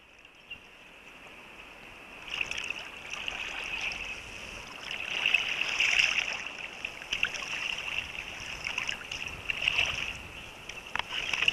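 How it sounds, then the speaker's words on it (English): A sea kayak paddled near Albatross Island in warm, lightly breezy conditions, with rhythmic paddle splashes and water swishing along the hull over steady wind noise, close and moderately loud. "we paddled in warm conditions with just enough breeze to sail"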